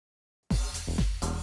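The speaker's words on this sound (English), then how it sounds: "maybe you reverse it and it acts as almost like a swell" After a moment of silence, a house beat kicks in with a reversed ride cymbal swelling upward between hits, its rising shimmer layered over pounding kick drums in a loud, steady groove.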